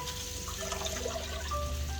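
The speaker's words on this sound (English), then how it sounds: "I'm going to wash my kettle now" Water runs and trickles steadily while a kettle is rinsed clean at a home kitchen during sausage canning, with a low continuous hum underneath and small splashes throughout, close and moderately loud, no voices.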